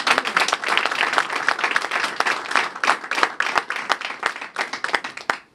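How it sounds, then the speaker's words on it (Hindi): A church congregation claps and applauds for God in sustained dense clapping that fades out at the end. "तालियां बजाएं उस जिंदा खुदा के लिए।"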